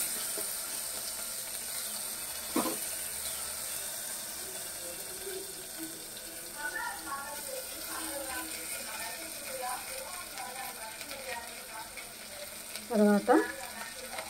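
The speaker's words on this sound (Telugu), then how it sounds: "ఇప్పుడు అల్లం, వెల్లుల్లి, కరివేపాకు వేస్తాం కదా, ఇది కూడా వేసి వేయించేసుకున్నామండి" Onions, ginger, garlic and curry leaves fry in a pan with a soft, steady sizzle, with a few metallic clinks and scrapes from stirring mixed in.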